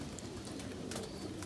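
Pigeons coo softly and continuously at close range, with a few flutters and rustles in an enclosed space.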